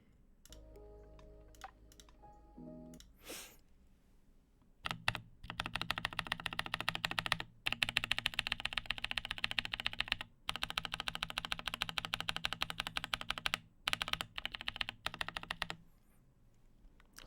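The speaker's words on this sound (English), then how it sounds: "I'll do a little typing there for you" Bursts of fast typing on a mechanical keyboard fitted with Archetype keycaps, close and clear, with sharp clacky keystrokes in dense runs broken by short pauses; a few scattered clicks and handling noises come first.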